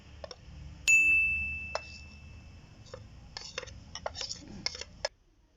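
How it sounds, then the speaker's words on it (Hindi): Clinks, taps and a ringing metallic ding as an onion and walnut chutney mixture goes into a mortar, with scattered scraping knocks near the mic. "अब पूरा मिक्सचर ओखली में डालेंगे प्याज वाला।"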